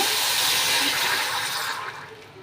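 Dissolved sugar syrup pours through a filter in a loud, close, steady stream, then tapers off and thins out toward the end.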